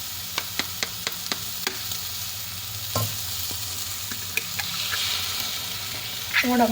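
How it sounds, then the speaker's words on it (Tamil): An egg for bread kottu is beaten with a run of sharp, evenly spaced taps, then poured into a pan, where a soft steady sizzle continues, close by, with a louder hiss near the end. "இப்போ இனி இதுக்குள்ள வந்து ஒரு முட்டை ஒன்று அடித்து ஊற்ற போகிறேன்"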